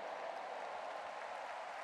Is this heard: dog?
no